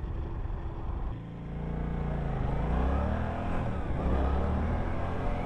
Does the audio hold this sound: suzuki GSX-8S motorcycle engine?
yes